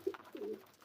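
A pigeon sitting on eggs gives a couple of soft, low coos close by in a very short moment, with no voices.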